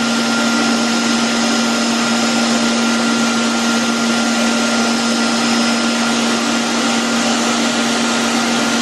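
A Lemmer T-75q HVLP turbine sprayer runs continuously while applying finish to wood, producing a steady, loud whooshing drone with a constant hum and no pauses or voices.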